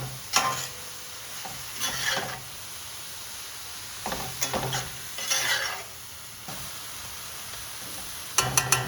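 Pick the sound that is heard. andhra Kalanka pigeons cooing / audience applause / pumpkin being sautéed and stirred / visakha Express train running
pumpkin being sautéed and stirred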